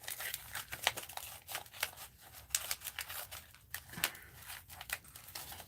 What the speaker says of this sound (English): And fold it in half again. And cut it here.